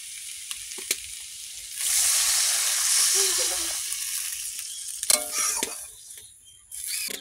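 Food sautéing in a pan over a wood fire: a burst of frying sizzle swells for a few seconds, then fades back to quieter scraping and clinks of a utensil against the pan.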